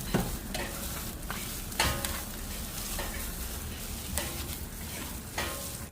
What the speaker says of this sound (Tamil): இப்போ இது எல்லாத்தையும் நல்லா கலந்து விடுவோம்.